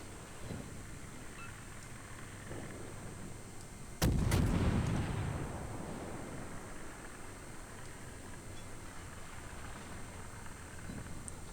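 Naval artillery guns fire in World of Warships, a heavy, booming salvo with a sharp double crack followed by a long rumbling decay over steady sea and wind ambience.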